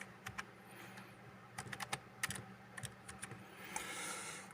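A password is typed on a computer keyboard during a Linux disk test: quick, light key taps, close and fairly quiet, in short bursts with small pauses over a faint steady hum.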